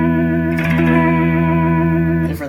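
A guitar runs through an Eventide pedal set to vibrato, giving a sustained, wavering pitch-modulated tone that stays loud and steady before dropping off at the end.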